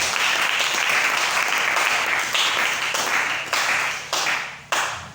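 A church congregation applauding in praise during an evangelical service, dense sustained clapping that stays loud and close throughout before tapering off, with no speech over it.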